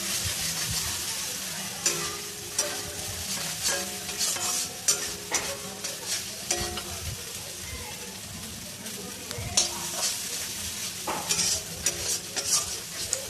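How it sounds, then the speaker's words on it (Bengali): Fried spice paste being stirred with sour yogurt in a pan for a yogurt katla fish curry: repeated scraping stirs and clinks over a soft sizzle, with a voice talking quietly in the background. "টক দইটা দিয়ে আমি হালকা একটু নাড়াচাড়া করে নেব, খুব একটা কষাবো না"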